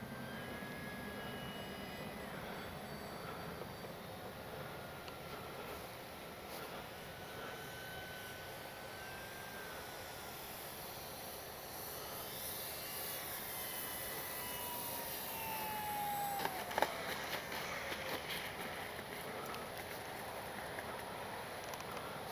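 An X-Fly Spitfire RC warbird model plane flies at a distance, its faint steady motor whine drifting with speed changes over open-air wind noise.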